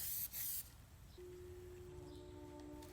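A brief burst of Duplicolor aerosol spray, with a clogging nozzle, hisses loudly at the start, then fades into a quieter background with a faint sustained tone.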